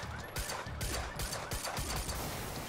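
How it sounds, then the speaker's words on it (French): Explosions and gunfire blend during a firefight in the Quantum Break video game, a dense, continuous barrage of loud blasts and rapid bursts with no pauses. "Magnifique explosion."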